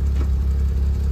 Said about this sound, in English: clutch in, turn the key